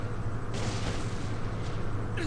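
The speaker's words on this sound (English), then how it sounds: "an explosion so fierce it dwarfed all previous bombardments, an explosion that seemed to rip apart the very heavens" A huge explosion in the visual novel game Dies Irae: a deep, continuous roar of bombardment rumble that swells sharply after a moment and keeps thundering loudly without a break.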